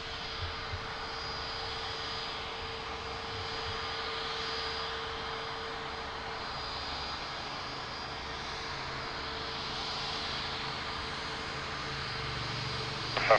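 A jet airliner at Lisbon Airport lining up on the runway for takeoff, its engines holding a steady, loud whine and rumble that runs continuously throughout with little change.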